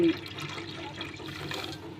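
Water is poured into packet milk at home, a short steady splashing trickle of liquid lasting about two seconds.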